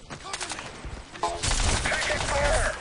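Rapid automatic gunfire from a first-person shooter, Crysis 2, bursts out loud and dense in the second half, following a quieter stretch of game sounds.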